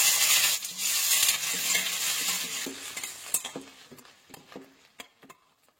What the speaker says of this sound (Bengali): অবশ্য তার আগে আমি দেবো পেঁয়াজ।